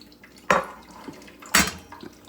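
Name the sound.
half cup of walnuts added to banana bread batter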